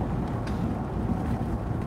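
Wind blowing outdoors on a cold day, a steady loud rumbling buffet across the microphone with no letup, dense and close for the whole moment.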